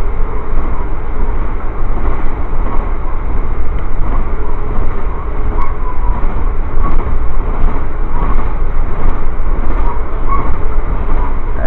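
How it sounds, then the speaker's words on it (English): Another train passing alongside a moving Amtrak passenger train, heard from aboard as a loud, continuous rumble of wheels and rails with faint rhythmic clicks, no talk. "Oh, train, another train."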